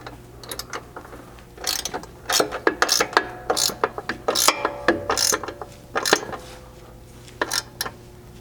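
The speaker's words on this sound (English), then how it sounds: "with a 9/16 socket, I can tighten the nuts to these carriage bolts" A ratchet with a 9/16 socket tightens nuts on carriage bolts for a Bronco lower control arm skid, giving close, rapid clicking bursts in uneven spurts with short pauses.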